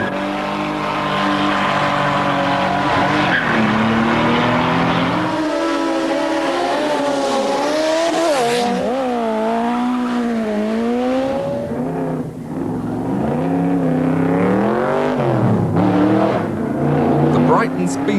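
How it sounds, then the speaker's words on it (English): Cars roar along the seafront at the Brighton Speed Trials, a standing-start sprint, with loud continuous engines revving and rising in pitch through gear changes, accelerating and passing close by with tire noise throughout. "All sorts of people in all sorts of cars and motorcycles racing down the seafront."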